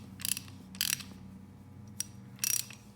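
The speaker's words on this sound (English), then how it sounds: "Then we have what are called ratchets, and ratchets work with sockets." A socket ratchet clicks in three short bursts of rapid pawl ticks separated by brief pauses, close and clear in a quiet room with no voices.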